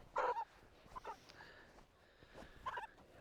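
Backyard chickens cluck and squawk in short, close bursts: a sharp call at the start, a smaller one near the middle and another toward the end, with quiet gaps between.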